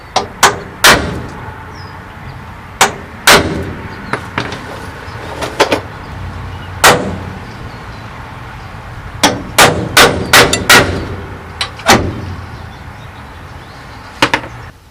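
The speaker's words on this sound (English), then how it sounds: "Pounding on it, tried to pop this rivet out, kept pushing back, all of a sudden it broke loose." Hammer pounding on a riveted plate on a truck cross member to drive a rivet out: sharp, loud metallic strikes, single and in quick clusters, irregularly spaced over fifteen seconds, close with no talk.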